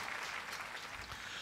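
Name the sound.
audience applause for award winners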